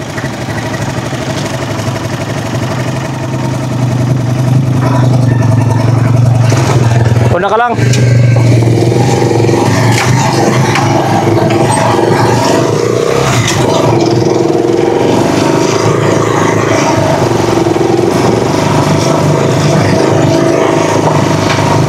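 A Rusi Chariot 175 tuktuk motorcycle engine labours in low gear on an uphill climb, a steady loud droning hum with vibration, briefly cut near the middle, while someone talks over it throughout.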